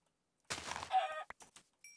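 A Minecraft chicken gives a brief, close cluck, followed by a few short clicks and thuds from the game.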